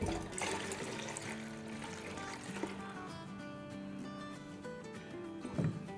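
Milk being poured into a measuring cup while making rabri kheer, a soft, continuous liquid trickle and pour that is faint and steady, with a small clatter near the end and no talking.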